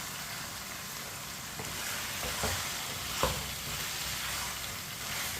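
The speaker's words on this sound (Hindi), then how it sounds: "कटे हुए टिंडे डालेंगे, टिंडे को भी मिक्स कर लेंगे।" Chopped tinda being stirred into chicken in a pan, with a steady close sizzle of frying under scraping spoon strokes and one sharp clack near the middle.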